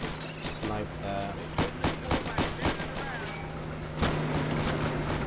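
Sniper rifle shots in the plastic toy soldier battle game Army Men: Plastic Wars, several sharp cracks amid a busy battle mix with a steady hum, one loud report near the end.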